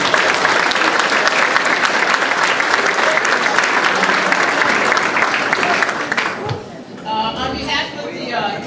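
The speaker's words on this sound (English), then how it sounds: "give yourself a round of applause" Loud, sustained applause from an audience at a community human rights breakfast, filling most of the clip before thinning out and fading into room noise near the end.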